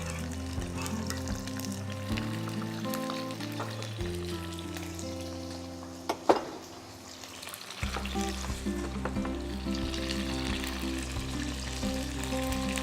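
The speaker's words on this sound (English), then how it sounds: "While they're sizzling away," Continuous sizzling of tomatoes frying in hot oil, with occasional stirring clatter and a low background hum, close and steady.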